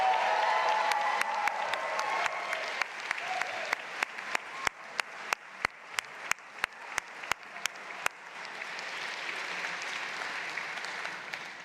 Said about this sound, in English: Another round of applause for Lucia Lorenza and Mark Choi.